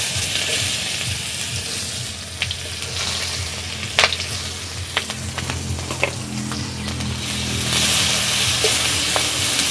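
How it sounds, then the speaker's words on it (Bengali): Chopped onion, chilli and ginger-garlic paste frying in hot oil give a dense, continuous sizzle with scattered crackles and pops, plus a few clinks of a stirring utensil, close up and without speech. "পেঁয়াজ কুচি, লঙ্কা কুচি, আদা রসুন বাটা তেলের ওপর দিয়ে দেব।"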